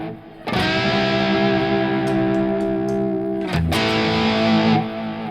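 Electric guitar through an El Capistan tape delay pedal with tap tempo, played loud and sustained with distorted chords, echo repeats trailing each strum and a brief dip before the next ringing chord.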